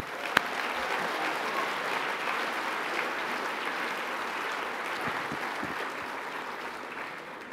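An audience at an awards ceremony claps for the awardees, a dense, steady applause that holds evenly throughout at moderate loudness with no talk over it.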